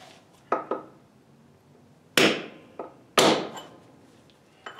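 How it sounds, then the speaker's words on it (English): Hammer blows on a center punch set into a concrete floor, several sharp metallic strikes of mixed loudness: two louder ringing hits and smaller taps, irregularly spaced and close up. "I'm just going to center punch the concrete like I would if it were a piece of metal."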